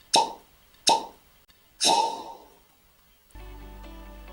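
Three sharp hollow pops ring out one after another as a cork comes out of a bourbon bottle, the last a bit longer, followed by a faint low hum.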